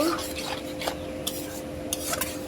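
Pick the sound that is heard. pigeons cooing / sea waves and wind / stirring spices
stirring spices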